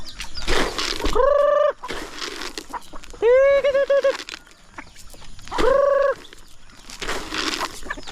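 Chickens on a farm call out in three loud, harmonic squawks with rising and falling pitch, separated by bursts of scuffling and rustling noise, close by.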